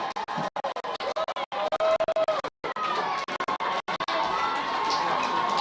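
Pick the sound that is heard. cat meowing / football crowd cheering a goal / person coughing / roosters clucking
football crowd cheering a goal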